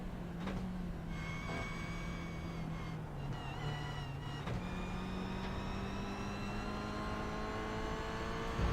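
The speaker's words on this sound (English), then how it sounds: "So I think you heard the engine note was quite low and quiet" A Toyota GR86 engine runs at low revs on the Oschersleben track, a steady, fairly quiet drone heard from inside with small pitch dips as gears change, then holding a constant note.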